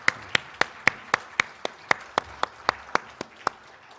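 Clapping during a Sunday church worship service, heard as a quick, steady run of about fourteen crisp, evenly spaced claps over four seconds, close and fairly quiet with no talk.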